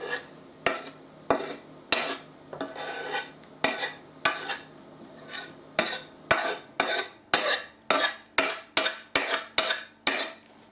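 Rhythmic scraping and clinking of a spoon or utensil working through dry ingredients in a bowl for mince pies, a steady series of close, repeated strokes with no talking.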